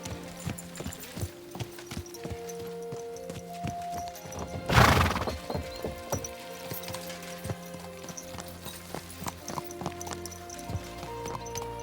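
A horse in the video game Kingdom Come: Deliverance 2 clip-clops steadily at a walking pace, its hooves close and continuous, with one loud neigh near the middle.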